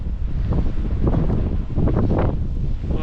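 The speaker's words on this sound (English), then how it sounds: "Very windy." Strong, blustery wind buffeting the microphone on an outdoor walk, a loud, continuous roar with gusty surges throughout and no speech.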